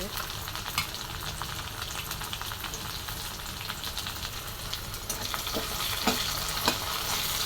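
Chillies and onion fry in a pan, giving a steady, close sizzle with a few brief scrapes of stirring and no talk over it.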